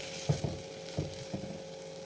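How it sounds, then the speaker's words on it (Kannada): Matvadi palya stirred in a pan over a low flame, a soft continuous sizzle under a few gentle scraping strokes of the spatula, close and quiet with no talking. "ಸಣ್ಣ ಉರಿಲಿ ಇದನ್ನು ಕೈ ಬಿಡದೆ ಕಲೆ ಹಾಕ್ತಾ ಇರಬೇಕು"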